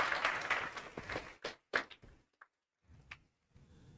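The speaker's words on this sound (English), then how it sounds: "So let us clap hands for such amazing acts once again." A small audience at a university library book club launch claps in a brief burst that quickly breaks up into scattered individual claps and fades into quiet.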